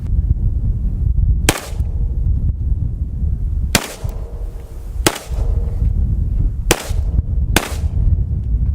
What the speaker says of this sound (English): We're shooting some hollow points as well